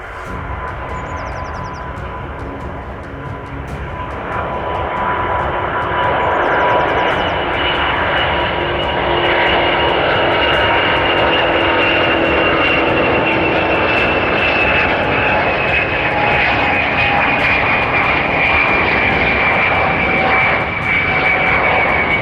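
Airbus aircraft engines roar during a takeoff test at the factory, a loud sustained jet whine that swells after a few seconds and holds steady, with a slowly falling tone running through it.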